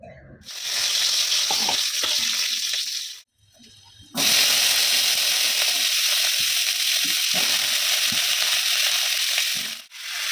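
Leafy greens fry in a pan with a loud, steady sizzle that drops out briefly when the heat is interrupted, then returns strongly with occasional scraping and clattering from stirring.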